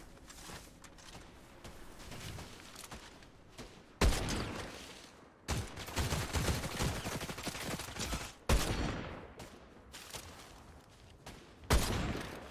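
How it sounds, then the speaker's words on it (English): Gunshots in Fortnite ring out as rapid bursts of loud, dense gunfire and fusillades, some near and harsh, others more distant, continuing in waves across the stretch with no talking. "We'll just follow the shots."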